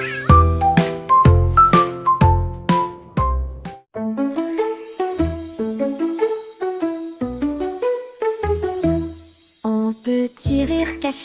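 Repeated cat meows sound as an effect within a French children's song, woven among melodic musical notes and light chimes, loud and in a rhythmic pattern.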